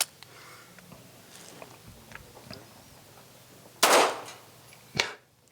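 At an outdoor practical shooting competition, a pistol fires two sharp, loud gunshots about a second apart after a stretch of quiet handling noises and faint clicks.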